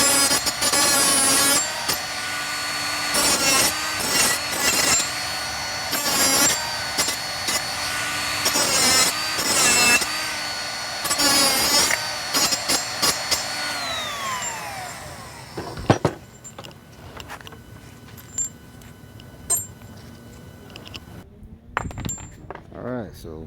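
A chopper-style cutter grinder slices through a lock, an aluminum block and a chain in repeated loud whining bursts, then the noise drops to quieter clinks and handling sounds with some talking.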